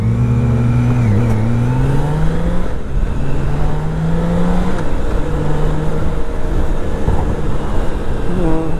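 On a 2018 BMW K1600 Grand America the engine revs and pulls away under throttle, its tone rising and settling through several swells, loud and continuous under heavy wind rush.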